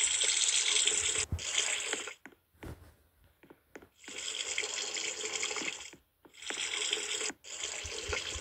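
A sink faucet in the Roblox video game gushes water in strong, close bursts that stop and start several times with brief quiet gaps between them, and there is no talking.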